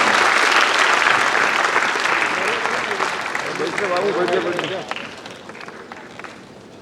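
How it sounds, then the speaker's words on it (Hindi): Loud, sustained applause from a crowd at a hospital building foundation ceremony with the chief minister, with voices talking over it midway before the clapping fades out. "खूब जोरदार तालियों के साथ करेंगे।"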